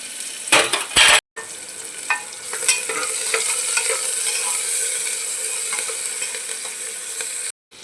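Spices tempering in hot oil in a home kitchen pan give off a steady, close sizzle, with a few clinks and scrapes of stirring near the start.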